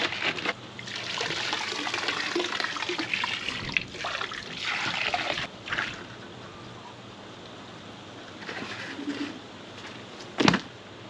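Pond treatment being poured into garden koi pond water, a steady trickling, splashing wash of liquid running for most of the stretch, fairly close, with birds and a pigeon cooing faintly around it.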